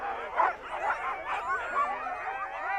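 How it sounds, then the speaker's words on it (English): Sled-bred huskies bark, yip and whine in a continuous excited chorus, several dogs overlapping at moderate distance with no pause. "Huskies are bred to be sled dogs."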